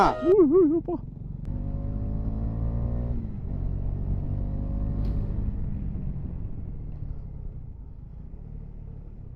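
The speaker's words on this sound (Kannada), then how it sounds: "ಇದು ನಮ್ಮ ಯತೀಶ್ ಮಾಮಂದು ಗಾಡಿ ಅಡ್ವೆಂಚರ್ 250 ಇದು." A KTM Adventure 250 motorcycle ridden on a hill road toward a viewpoint gives a steady low engine drone with slight pitch shifts as it moves; voices are briefly heard at the start.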